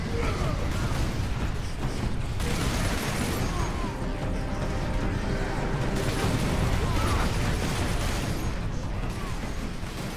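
Gameplay from the video game Warhammer Space Marine plays as a dense, loud barrage of gunfire, blasts and mechanical clatter, continuous throughout with no clear pauses.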